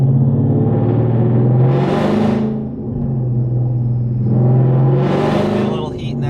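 A 700-plus horsepower car running boosted fuel revs hard twice, a loud, close engine roar swelling and falling back to a heavy rumble between bursts.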